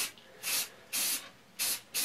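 Rust-Oleum primer sprayed from an aerosol can in four short, loud hissing bursts separated by brief pauses, close up.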